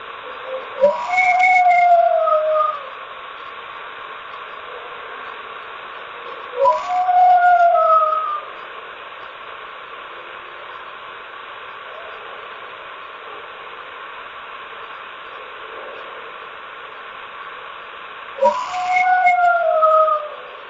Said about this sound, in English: That sounds to me like it might have been a dog